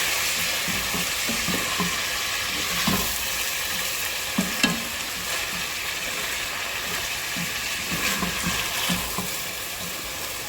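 Rice is stirred and fried in a pan for beef meatball curry, with a continuous close sizzle and hiss broken by soft scraping stirring strokes at irregular intervals.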